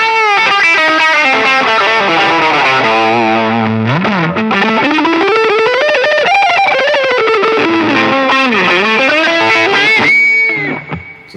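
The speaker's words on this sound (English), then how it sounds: "So you have the drive on, the lead boost, which is the chorus, and the delay." Electric guitar lead played through a Line 6 POD Express with drive, lead boost, chorus and delay engaged, a loud sustained distorted melody with bending, shimmering notes that ring out alone and fade near the end.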